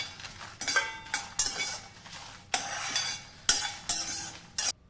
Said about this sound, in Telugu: 10 నుంచి 12 దాకా ఎండుమిర్చిని అయితే ఇందులోకి తీసుకుంటున్నాను. వీటిని కూడా మంచిగా ఫ్రై చేసుకుని పక్కన పెట్టేసుకుందాం